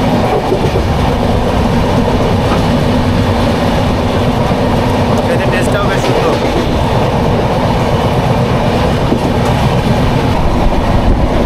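The 22861 Kantabanji Ispat Express runs at over 100 km/h, heard from on board as a loud, constant roar of wheels and carriage rumble with faint rhythmic clatter, while a voice speaks briefly underneath.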